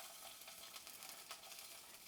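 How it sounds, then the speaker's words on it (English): Salmon fillet lies skin-side down in a hot pan, sizzling and crackling steadily at low volume with small pops, no voices over it. "Hear that sizzle?"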